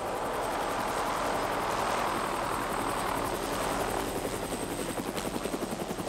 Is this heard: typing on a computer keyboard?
no